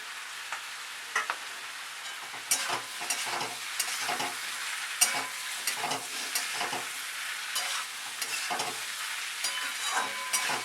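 A spoon stirs fried paneer through a hot pan in uneven strokes, scraping and clacking now and then over a steady, gentle sizzle with no one talking.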